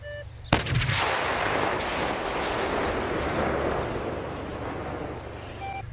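One heavy blast from a 2S19 Msta self-propelled howitzer fires with a sharp crack, then a broad rumbling echo rolls on for several seconds.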